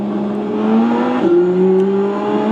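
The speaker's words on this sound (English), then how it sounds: "You can actually hear the turbos go a little bit faster whenever I hit that button." Turbocharged race car engine in the iRacing sim, a steady loud droning rev that climbs in pitch, shifts abruptly midway, then keeps rising, with no talk over it.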